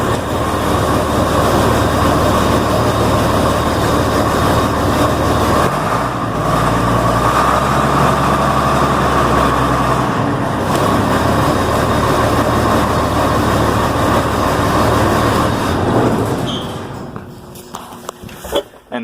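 A combine harvester's engine runs loud and steady just after a cold start, a continuous rumbling drone that holds for about sixteen seconds before it shuts down and falls quiet.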